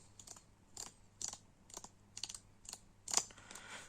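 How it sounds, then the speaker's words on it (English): Playing cards flicked against the side of a hand at a card table, a series of soft, crisp ticking snaps in an uneven rhythm, quiet and close with no talk. "is just flicking the cards on the side"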